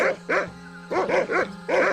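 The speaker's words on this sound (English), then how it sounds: "This crazy mutt is trying to kill me." A cartoon dog in the adventure game Monkey Island 2 Special Edition barks in three quick bursts of paired yapping woofs, loud and close, over a low steady musical drone with no talk.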